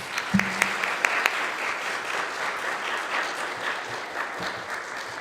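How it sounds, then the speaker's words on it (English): An audience at a school speech contest gives sixth graders a final round of applause, with a few sharp claps standing out at first before settling into a steady, even patter that carries on to the end. "Let's give them a final round of applause."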